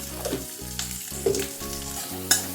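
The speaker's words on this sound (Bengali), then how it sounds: "সামান্য হলুদ দিয়ে ক্যাপসিকামের টুকরোটা আমি নেড়ে নিলাম।" Capsicum pieces with a little turmeric stirred in a hot pan, with a bright frying sizzle broken by several quick scraping strokes and a sharp clink near the end, close and without talk.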